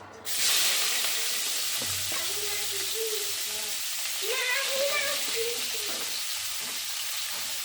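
Chopped onion dropped into a hot pan, bursting into a loud, steady sizzle that holds throughout with soft stirring scrapes and faint tonal clinks.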